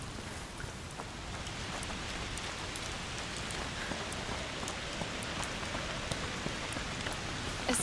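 Steady rain falls on a surface in the video game A Plague Tale: Requiem, a constant hiss with scattered individual drops pattering close by, no voices.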